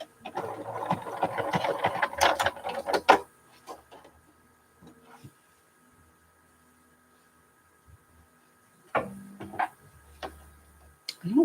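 A sewing machine stitches an even seam, running in a dense rapid mechanical burst for about three seconds. It then falls quiet apart from small clicks before a second short run near the end.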